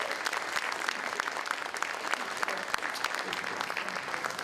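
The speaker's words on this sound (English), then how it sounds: "So give her another round of applause." Steady, dense applause from the audience at a mayor's 2025 State of the City address fills the room, continuous and fairly loud, honoring the mayor's wife.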